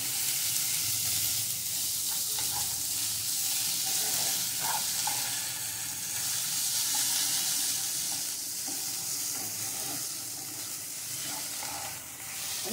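Snake gourd chhenchki with onion and jaggery fries in a pan as a steady close hiss and sizzle, with occasional soft stirring scrapes.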